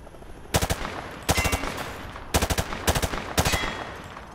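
Automatic weapon fire at targets in Modern Warfare 2 Remastered, four loud close bursts of rapid shots separated by short pauses, with no voices over them.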